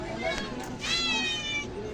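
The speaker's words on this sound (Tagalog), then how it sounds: "nag-emiyaw yung mga pusa ko" Pet cats meowing indoors at night, a short mew followed by a longer, drawn-out rising-and-falling meow, close by, with a person speaking quietly underneath.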